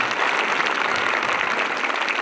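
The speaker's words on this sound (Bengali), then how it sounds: "জোরে হাততালি একটা" Loud, steady applause from a school audience fills the hall as a prize is handed over at a talent search award ceremony, dense clapping sustained without a break.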